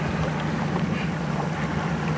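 Steady wind buffets a saltwater fishing boat, a constant broadband rush with a low hum underneath, close and unbroken throughout with no talking.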